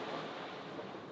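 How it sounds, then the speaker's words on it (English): Large ocean swell around a sailing boat, a steady broad rush of water and wind, close and continuous, no voices. "The waves in this swell is a lot bigger than I ever anticipated it would be"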